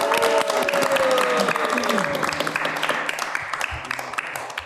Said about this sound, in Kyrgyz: Урматтуу катышуучулар, дагы бир жолу кол чаап коелучу келиңиздер